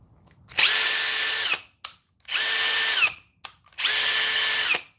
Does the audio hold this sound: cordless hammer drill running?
yes